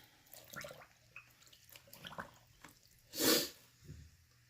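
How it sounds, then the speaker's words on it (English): Alpaca fleece is pushed down by hand into a tub of water, giving quiet sloshing and dripping, a faint gurgle, and one louder splashy surge near the end. "I'm just literally pushing it into the water."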